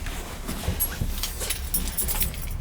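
Small chihuahua giving a few soft, brief whimpers near an oil boiler, mixed with faint jangling and rustling, steady low background hum throughout.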